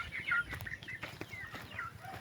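Native chickens kept in a backyard pen make soft clucks and brief calls, several overlapping bird notes spread across a couple of seconds over low farmyard rumble, with no talking.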